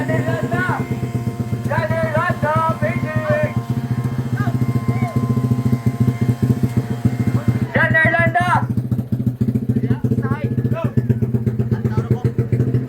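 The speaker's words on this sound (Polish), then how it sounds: "Widać, że to są duże motory." Large motorcycles with big cylinders and spoked wheels rumble in a deep, steady, pulsing drone that persists throughout, while people talk over the engine noise at close range.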